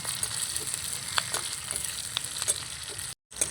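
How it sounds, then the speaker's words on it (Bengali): Sliced onions fry and sizzle in a pan for an egg fried rice dish, a steady bright crackle with a few soft scrapes of stirring, close and continuous until a brief gap near the end. "এবার আমি দিয়ে দেব স্লাইস করে কেটে রাখা পেঁয়াজগুলো এখানে সবগুলো আমি দিয়ে দিচ্ছি এবার ভালো করে নাড়াচাড়া করে মিশিয়ে নেব"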